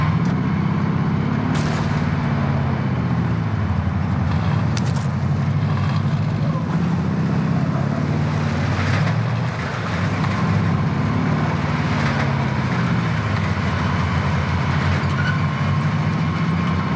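A vehicle driven in the Call of Duty Warzone video game gives a steady, loud engine drone with shifting low rumble, rattling and wind noise throughout, no talk over it.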